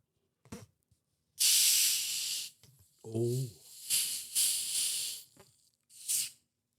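Pepsi Electric bottle held close and opened, giving a few sharp hissing fizz bursts separated by pauses, with a brief voiced sound in between.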